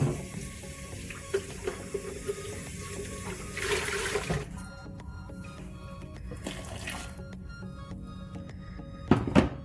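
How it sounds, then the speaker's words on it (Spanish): Water runs from a tap into a blender to rinse it, followed by the liquid being poured into a pot of green salsa, a continuous splashing rush with a few dull knocks of the jar. "Y ya simplemente voy a enjuagar un poquito la licuadora con agua para agregársela aquí."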